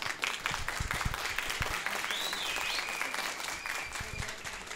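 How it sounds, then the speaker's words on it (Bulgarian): Audience at a high-school graduation ball in Targovishte applauding the school director, a steady, full roar of many clapping hands at moderate distance, with faint voices and a brief whistle-like tone within it. "Бурни аплодисменти още веднъж за директорката"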